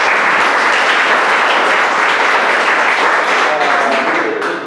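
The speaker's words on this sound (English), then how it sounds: "quick round of applause" Audience at a United Way workers lunch breaks into a dense, steady round of applause, loud and close, many hands clapping evenly for about five seconds before tapering slightly at the end.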